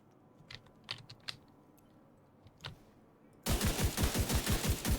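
A Dragunov rifle fires in the video game Division 2, first as a few scattered sharp cracks, then as a loud, rapid string of evenly spaced shots that runs to the end.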